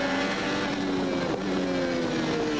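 A 1987 Formula One car at Suzuka during the Japanese Grand Prix downshifts with a heel-and-toe throttle blip, its engine a continuous buzzing roar with shifting pitch, steady and fairly loud.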